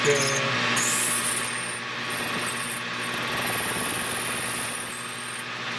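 A hand crank turns the feed screw on a small lathe, giving a steady mechanical ratcheting and whirring drone with a faint high whine, continuous and fairly close throughout.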